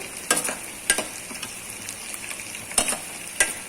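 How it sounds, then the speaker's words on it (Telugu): Chicken curry with onions fries in a pan, giving a steady low sizzle broken by several sharp scraping stirs of a utensil against the metal, close up and with no voices. "చికెన్ కూర ఉల్లిపాయలు ఇంకా కొద్దిగా వేగాలండి"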